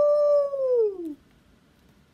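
A single dog howl, loud and close, rises into a long sustained tone and then falls away, followed by near silence.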